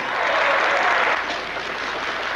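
Steady, dense theatre applause from an opening-night audience, loud and close, sustained throughout without a break or voices.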